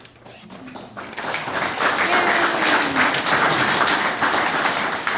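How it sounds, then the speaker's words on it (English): An audience at a poetry reading breaks into applause that starts light and builds into full, steady clapping. A voice is heard briefly near the start. "Applause for Lucinda"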